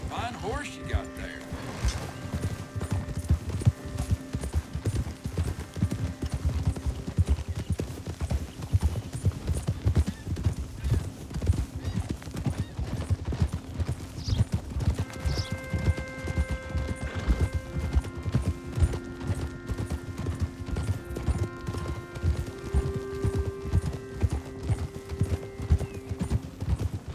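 Horse hooves clip-clop in a steady rhythmic gait throughout in the video game Red Dead Redemption 2, close and continuous, with occasional snorts, faint background music tones and talking over parts of it.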